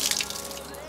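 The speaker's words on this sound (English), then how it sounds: "if you ever have to rinse them, you can just" Running water splashes and trickles steadily over an all-weather car floor mat being rinsed, a close, hissing wash with no voices.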